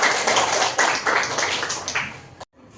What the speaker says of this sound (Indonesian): Tepuk tangan untuk peserta.